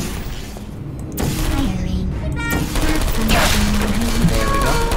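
Turrets in Portal 2 fire loud, rapid bursts, with dense rattling gunfire that swells after the first second and continues to the end among game tones and beeps.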